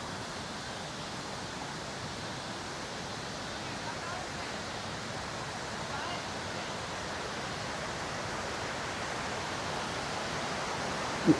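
Continuous broadband rushing of falling water, a steady even roar with no breaks, fairly soft and distant-sounding.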